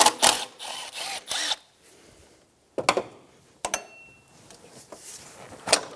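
A 10mm bolt on the intake of a 2003-2007 Infiniti G35 is loosened with a socket wrench: a few sharp bursts of ratcheting clicks, close up, with short quiet gaps between them.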